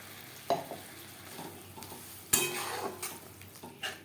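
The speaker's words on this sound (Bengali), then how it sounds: "মিডিয়াম টু লো ফ্লেমে 3-4 মিনিট মশলা বেশ ভালো করে কষিয়ে নেব" Spices for a boal fish curry frying and being stirred in a pan over medium to low flame, a steady soft sizzle broken by sharp scraping and clinking of a utensil against the pan.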